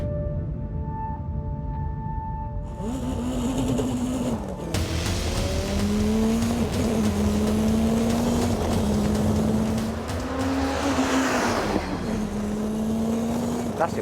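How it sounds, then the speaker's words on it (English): A Caterham 620R sports car accelerates hard on a top-speed run. Its engine note climbs loudly through several gears, with brief dips at each upshift, a sustained close roar with wind noise and no talking. "So the Caterham 620R sets the benchmark with a best speed of 112 miles an hour."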